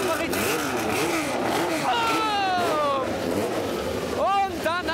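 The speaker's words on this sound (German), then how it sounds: "Der 917, unfassbar genial, dieses Auto, der Sound ist zum Niederknien" A Porsche 917 race car engine roars at a sound night event, loud and rising through sweeping gear pulls and revs, heard amid a noisy crowd and a talking voice.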